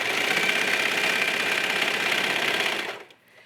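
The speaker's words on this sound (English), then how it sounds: "we can do this with the serger now" A serger overlocking a pocket seam on joggers at about a quarter-inch allowance, a loud, steady high-speed whirring hum running for about three seconds before stopping abruptly.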